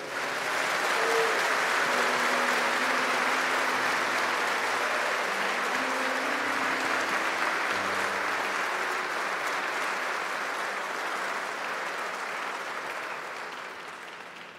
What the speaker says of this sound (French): On peut acclamer chaleureusement pour le Seigneur. Podemos aplaudir muito forte o Senhor.